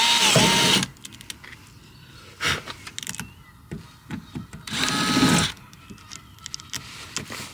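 A power drill whines in short bursts as it drills holes through the door of a VW Crafter camper van, three main runs separated by quieter clattering and handling noises.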